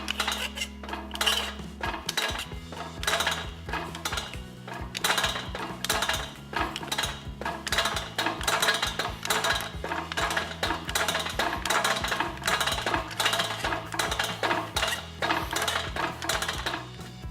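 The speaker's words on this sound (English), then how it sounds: "I'll curve this to match the template by shrinking the wide flange." A Metal Ace KSM155 shrinker-stretcher works a metal angle flange, making a rapid series of sharp metallic clanks and clinks in a steady rhythm, close and fairly loud, with no talking throughout.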